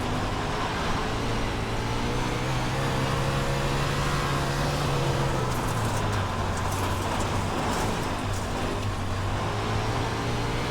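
A sprint car engine drones steadily in an iRacing sim race, a continuous buzzing roar whose pitch shifts slightly midway, with no talking.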